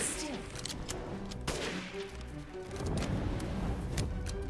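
Gunshots in Resident Evil Village, several sharp reports at irregular intervals amid dense, loud game combat noise, with voices mixed in.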